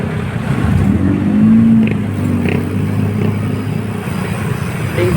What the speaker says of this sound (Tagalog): Linggong-linggo pero grabing traffic.